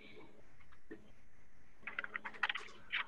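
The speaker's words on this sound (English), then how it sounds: "Hold on, I'm typing something." Computer keyboard typing starts in a short quiet burst of a few quick keystrokes, close but soft, after a brief stretch of near silence.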